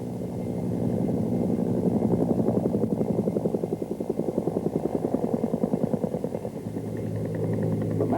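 A Bell AH-1 Huey helicopter in flight gives a loud continuous engine drone with a fast, steady rotor thump throughout.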